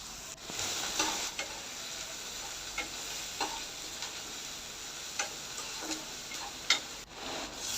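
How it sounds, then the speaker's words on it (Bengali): Chopped onion frying in a pan with cumin, giving a steady soft sizzle with occasional light stirring ticks and scrapes, fairly faint and continuous, with no voices. "এটা একটু ভালো করে ভেজে নেব"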